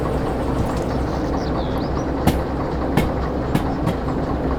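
Train coasting on rails in the Derail Valley simulation game, a steady loud rumble with a few sharp rail clicks spaced about a second apart.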